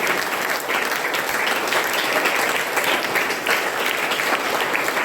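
Students at Navjyoti Convent High School applaud their teachers on Teachers' Day, a thick, sustained roar of many hands clapping together, loud and continuous with no voices over it.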